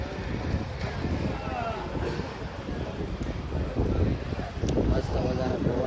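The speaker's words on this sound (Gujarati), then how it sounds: "મસ્ત મજાનો પવન ઉડે છે" Wind blows steadily outdoors in Deh in the evening, a continuous close rumbling buffet with gusts that swell toward the end and no other clear sounds.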